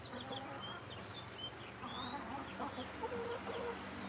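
Hens pecking at a special treat on a hot day cluck softly and intermittently, with a few short higher calls, faint and slightly distant over a steady outdoor hiss.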